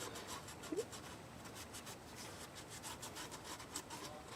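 Close rubbing and scraping on the metal surface of a 2005–2010 Ford Mustang 4.0L V6 thermostat housing, a steady back-and-forth scrubbing that continues throughout without speech.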